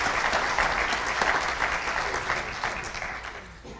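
Applause from an audience at a Texas ceremony celebrating the first PACE project, with steady, dense clapping sustained throughout and tapering slightly toward the end.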